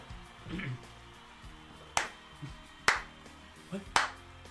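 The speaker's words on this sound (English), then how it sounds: "He's clapping. The president's finally clapping." A few sharp claps, spaced about a second apart, ring out fairly close over a faint murmur of voices.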